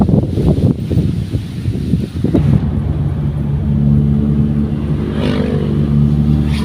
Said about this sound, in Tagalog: grabe ang lakas ng hangin o